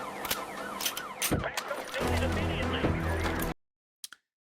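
A police siren wails in the trailer for the Alpha Response video game, rising and falling over other loud game sounds for about three and a half seconds before it cuts to near silence and a couple of short clicks.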